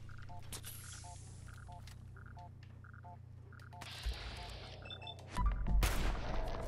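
Gunfire in Fallout 4: a quiet stretch of soft, regularly repeating game tones gives way near the end to a short, louder burst of shots and rough impact noise.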